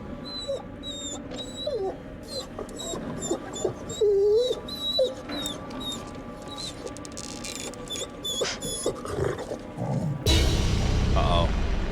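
Injured dog in The Devil in Me horror game, whimpering in a string of thin high whines and short yelps over a woodland ambience, followed by a sudden loud noisy burst at the end.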